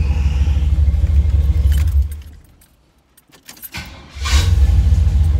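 A 1975 Camaro LT engine, all original with a B&M shifter and an automatic conversion, rumbles at idle, dips into near silence and then cranks and catches again, settling back into a loud, steady low rumble.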